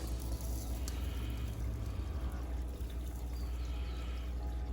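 Epsom salt, about an ounce by the handful, poured onto a scale for an aquaponics system, giving a steady granular hiss over a constant low background hum with no talk.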